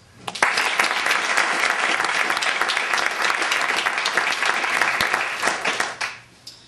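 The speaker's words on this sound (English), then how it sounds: "we'd just like to give him a round of applause as well" A crowd at a Parks Canada awards ceremony breaks into loud, sustained applause that continues for several seconds before fading out.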